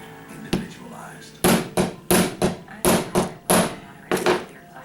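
A ball peen hammer strikes a doming tool set on a coin being shaped into a ring, giving about eight loud, sharp, close metallic whacks in an uneven rhythm.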